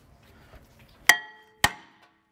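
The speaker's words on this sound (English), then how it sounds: "So I hit the top hat with the hammer, it's not coming off." Two sharp, loud metallic hammer blows about half a second apart ring out against the rusted rear brake rotor of an Audi S3, each with a bright clanging ring that decays quickly, over a quiet garage background.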